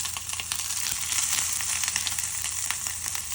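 Fish pan-frying with ginger added gives a continuous close sizzle with scattered sharp pops and crackles, steady and moderately loud, with no talking.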